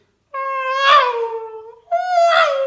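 A voice mimics a racing car zooming past, two rising-then-falling drawn-out whines with a short gap between them, loud and close.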